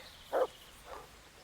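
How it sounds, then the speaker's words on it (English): A dog companion in a video game gives two short barks, the first louder and the second fainter, about half a second apart, over a quiet game soundscape with no talking. "What you barking at now, Mutt?"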